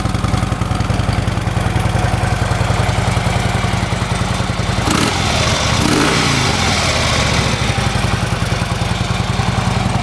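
Harley-Davidson Ultra Classic FLHTCU motorcycle with factory exhaust idling close by: a steady, loping low rumble with rapid pulsing that holds evenly for ten seconds, briefly swelling near the middle.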